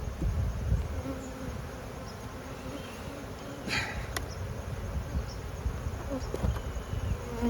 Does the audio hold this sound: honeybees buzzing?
yes